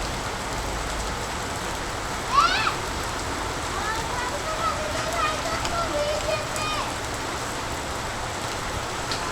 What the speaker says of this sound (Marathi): आता बघा पुन्हा एक सर आली मोठी.